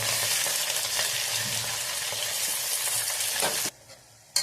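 Onion and green chili frying in hot oil with whole spices in a pan, a loud steady sizzle with stirring that cuts out abruptly near the end, then briefly returns.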